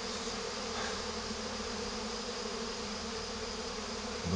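A swarm of bees buzzing steadily around a hive outdoors, a dense, continuous drone at moderate distance with no voices over it.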